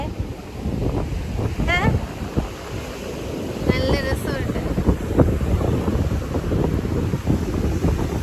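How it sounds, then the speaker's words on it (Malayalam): Sea breeze buffets the microphone in a continuous rushing roar at a beach in Karnataka, with people talking and a couple of brief whistling tones over it. "ബീച്ചിന്റെ സൈഡിൽ ഇങ്ങനെ നിന്ന് കാറ്റ് കൊള്ളാൻ"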